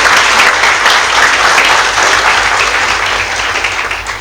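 A hall audience gives loud, sustained applause to welcome a speaker at a talk, with dense steady clapping that eases slightly toward the end.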